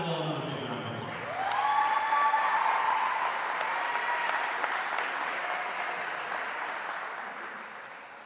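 Crowd applause honoring seniors on senior day at a girls high school basketball game, Camden Catholic hosting Sterling, rising sharply after a brief voice and sustained as steady broadband clapping through the gym before slowly easing.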